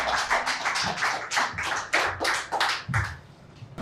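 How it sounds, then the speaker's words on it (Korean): A church congregation claps in welcome for a visiting pastor before a sermon, a steady run of fairly loud, closely spaced handclaps carrying on for several seconds without speech. "다시 한번 박수로 환영합니다"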